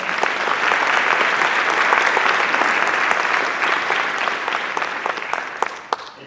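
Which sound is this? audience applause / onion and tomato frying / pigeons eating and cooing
audience applause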